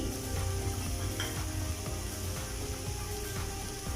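Sliced onions fry in a pan for a prawn roast, giving a soft, steady sizzle with faint stirring scrapes, heard close and quiet with no talk.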